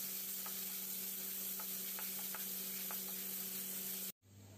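Chopped ginger and garlic sauté in hot coconut oil, a steady close hiss with faint stirring ticks that cuts off abruptly just before the end.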